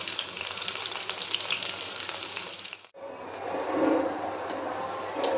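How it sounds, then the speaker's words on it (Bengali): Pumpkin leaf fritters fry in hot oil with a dense, bright sizzle. A brief cut leads into a fuller, louder bubbling crackle, heard close and without voices. "এই যে দেখো কুমড়ো পাতার বড়া ভাজছে"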